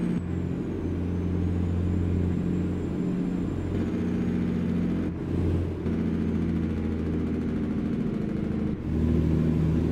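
A Kenworth W900 truck with a Cummins ISX engine in American Truck Simulator, a steady low diesel drone with shifting engine tones and short bursts of air hiss partway through and near the end.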